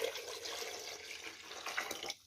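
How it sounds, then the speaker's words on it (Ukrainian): Water poured from a tap into a pot holding jars of cucumber and tomato salad for winter canning, a steady close splashing stream that cuts off at the end. "І зараз залю водою ось так"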